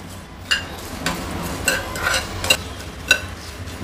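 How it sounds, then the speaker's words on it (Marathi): Cumin seeds roast in a pan on low heat, a soft dry sizzle with a handful of sharp metallic spatula scrapes and clinks against the pan, close and quiet, no voices. "आता ह्याच्यामध्ये मी अर्धा टेबलस्पून जिरं टाकते। हे थोडंसं आपण रोस्ट करून घेऊया छान मंद गॅसवर।"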